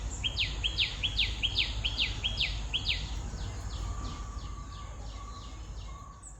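Birds in a garden beside a small pond call in a rapid series of repeated bright chirps, loud and close at first, then fading to fainter calls over steady outdoor background hiss.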